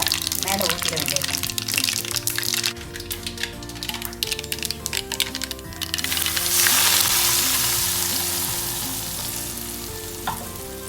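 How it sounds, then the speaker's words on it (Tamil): Hot mustard seed tempering poured over raw mango pieces for a quick mango pickle, a loud sizzling crackle bursting up and fading over several seconds, with stirring clatter and spoken voices around it. "ஆஃப் பண்ணிவிட்டு நம்ம அந்த மேங்கோ இதில் மேலே ஊற்றிட வேண்டியது."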